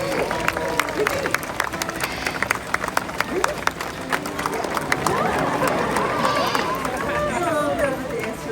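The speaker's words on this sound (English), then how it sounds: "So, just a big round of applause." Audience applause at a bird show at African Lion Safari, a steady patter of clapping from a crowd with chatter mixed in, continuous throughout.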